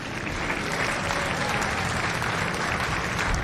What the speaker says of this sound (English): a round of applause for our recruiters and our combat instructors